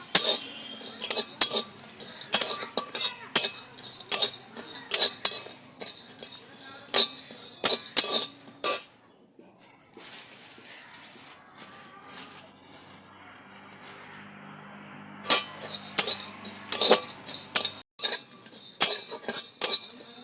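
Coriander and cumin dry roasting with other spices in a pan, heard as repeated sharp scraping and clinking of a utensil stirring against the metal in busy bursts, with a quieter stretch of faint sizzle in the middle.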